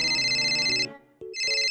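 A phone rings in the Roblox video game, a bright, close electronic ringtone melody that plays, drops out briefly, then starts again.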